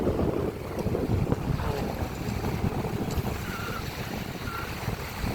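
Steady gusting wind buffets the microphone at Dolomite Beach, the Manila Bay shoreline, as a continuous broadband rush with low rumble, with faint water and boat-like background throughout.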